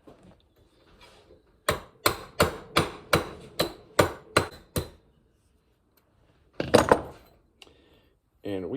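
About eight sharp metallic hammer strikes in a steady rhythm, close and loud, hammering down a rivet on a small measuring cup, followed by a pause and a brief clatter.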